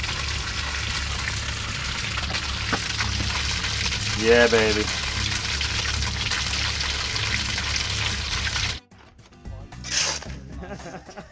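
Water rushes steadily from a repaired copper water service line, a broad hiss lasting several seconds before cutting off abruptly, with a brief spoken exclamation partway through.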